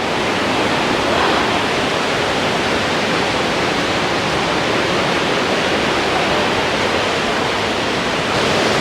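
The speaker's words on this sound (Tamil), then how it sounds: "ஃபைனலாக நாங்கள் வந்து வாட்டர் ஃபால்ஸ் அடிக்கி வந்துட்டோம்" A waterfall roars continuously, a loud, dense, unbroken rush of water heard close by and alone for the whole stretch.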